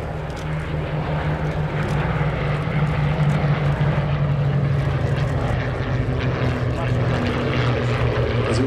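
The B-17 bomber Sally B drones overhead at Duxford's Flying Legends air show, her four propeller engines giving a loud, continuous, throbbing roar, with a commentator's voice running underneath.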